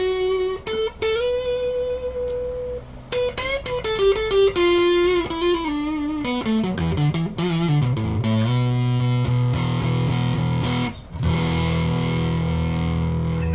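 A Kramer Striker 600ST electric guitar on its neck pickup plays through a Gorilla GG20 amp with heavy distortion, with sustained notes, bends and a descending run of chords, loud and up close with no voices.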